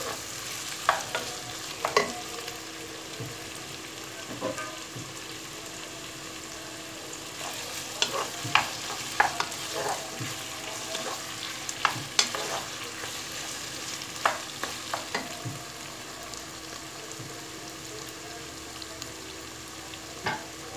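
Diced carrots and vegetables sizzle and crackle steadily in a hot pot, with scraping and clinking as they are stirred, sharp spoon knocks popping out at intervals.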